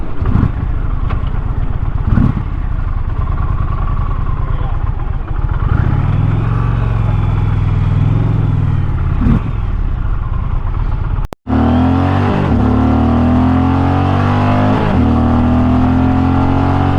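A 2022 Indian Dark Horse Pursuit motorcycle in sport mode accelerates at full throttle, its loud, close engine note climbing steadily in pitch through the gears, with a brief cut before another hard pull.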